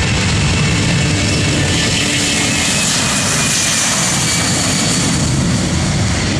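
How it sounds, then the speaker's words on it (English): Jet engines of a C-17 Globemaster transport aircraft at takeoff, a loud continuous roar with broad rushing noise that swells and holds throughout, heard alone without talk. "now we get ready for the C-17 Globemaster"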